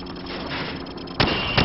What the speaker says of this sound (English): Now, shoot at the targets while firing from the hip.